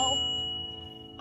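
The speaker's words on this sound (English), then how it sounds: "I added the bell." A bell fitted to a Vitus Nucleus kids bike gives a bright metallic ding that rings on with a long, fading tone, fairly quiet and with no one talking over it.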